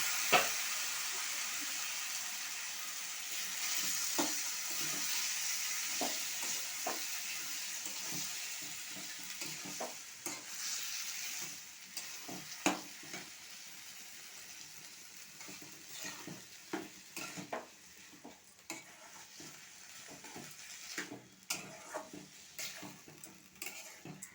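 A fried mix of onion, ginger, garlic, black cumin, green chilli and bay leaf is tipped into a pan with watermelon rind, giving a soft sizzle with stirring scrapes and clinks against the pan.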